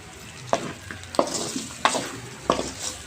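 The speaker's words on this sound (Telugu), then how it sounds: "నూనెలో బాగా ఫ్రై చేద్దాము" Chicken frying in oil with chili powder in a home kitchen, a steady crackle under four clear scrapes of a spoon stirring the pan at roughly even intervals, close and alone without talk.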